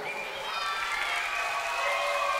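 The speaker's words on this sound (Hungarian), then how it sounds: "Tetszik a zene? Tapsold meg a művészt!" An audience claps for a musician at a music history presentation, sustained crowd applause at steady volume, dense and even throughout with a faint murmur of voices beneath.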